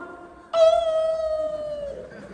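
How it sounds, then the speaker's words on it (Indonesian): A dog lets out one long, sustained howl that holds a steady pitch and then slowly trails off, fairly close and clear over a faint background. "Kenapa kalau azan berkumandang suara anjing melolong?"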